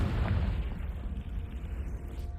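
A Confringo fire spell bursts in Hogwarts Legacy, a single low rumbling blast that rolls and fades over a couple of seconds at moderate loudness.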